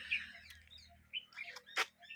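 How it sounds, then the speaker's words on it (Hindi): Birds chirp and tweet in a village, with several short bright calls scattered across the moment and one sharp louder call near the end, heard alone without talk over a faint low hum. "उड़ते पंछी"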